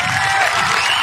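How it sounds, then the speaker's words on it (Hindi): A crowd at a traditional wrestling bout cheers and claps in a dense, continuous wash of noise. It is loud and close throughout, with shouting voices mixed into the applause. "तालियां मार दे खतरे वास्ते"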